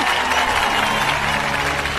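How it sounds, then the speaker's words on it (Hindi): A crowd claps loudly in a Hindi dubbed action film, a thick, sustained burst of many hands with no gaps, close and full throughout. "ताली बजाओ ताली"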